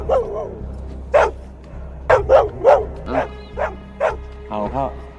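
A dog in a film about a 6-meter pool with a crocodile barks and yips in a series of loud, close bursts, with some whimpering between them.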